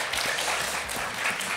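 Studio audience applause on a Bulgarian TV quiz show, a short burst of dense clapping at moderate loudness.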